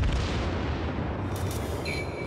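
Battleship Fuso main guns firing in World of Warships, a heavy continuous low rumble of the salvo rolling on throughout, loud and dense with no talk over it.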